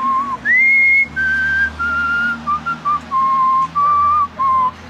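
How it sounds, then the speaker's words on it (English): A man whistles a slow, lyrical Wagner melody alone, sustained notes rising and falling in clear phrases with brief pauses between them. "what were you whistling?"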